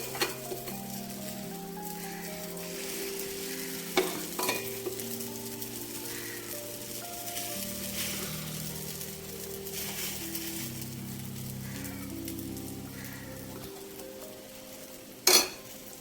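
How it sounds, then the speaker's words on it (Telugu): A high-protein omelette sizzles steadily in a pan with occasional utensil scrapes and clinks, then a sharp knock near the end, while a soft tonal hum plays underneath. "ఆమ్లెట్ వేసేసి"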